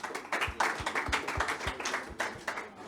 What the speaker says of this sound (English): please give me a round of applause as he comes on board